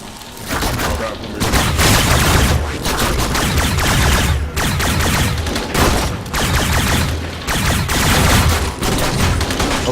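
Dense, continuous gunfire and explosive booms from the video game Warframe, rocket launcher blasts mixed in, loud and sustained with brief lulls, and a voice talking over it.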